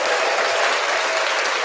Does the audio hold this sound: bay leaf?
no